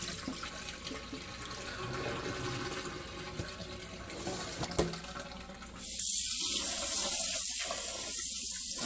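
Tap water runs steadily into a kitchen sink while raw chicken is rinsed, a continuous close hiss that turns brighter and heavier partway through as the flow strengthens.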